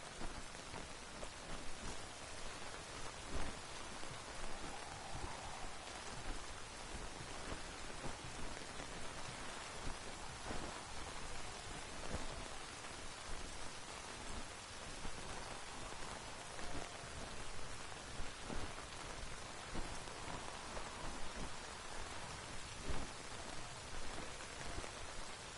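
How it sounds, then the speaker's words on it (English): Steady rain falls in The Witcher 3: Hearts of Stone, an even, dense hiss of drops on surfaces that runs unbroken and fairly quiet throughout, with a few faint louder patters and no voices. "Looks like rain."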